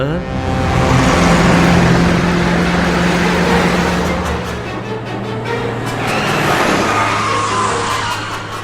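Bus engine driving along in an animated series, a loud, steady motor drone with shifting tones and a brief hiss partway through, under faint talk.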